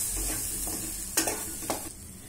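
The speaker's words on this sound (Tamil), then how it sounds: "நல்லா கலந்து விட்டுக்கோங்க." Beans and groundnut poriyal stirred in a frying pan, a soft steady sizzle with a few sharper scraping strokes of the spoon against the pan, close and alone.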